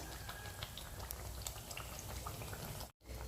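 Appalam bajji frying in hot oil, a steady, faint bubbling sizzle with scattered pops that briefly drops out near the end.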